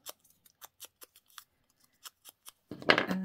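Scissors snip through paper in a series of short, crisp cuts at close range, about a dozen quick clips spaced irregularly, followed by a louder rustling burst at the end.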